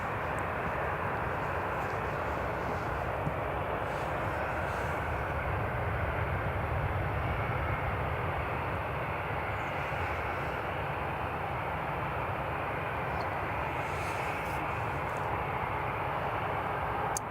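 A British Airways Airbus A319 in BEA livery at Newcastle International Airport gives off a steady, broad jet engine roar that holds constant and moderately distant throughout, with no voices.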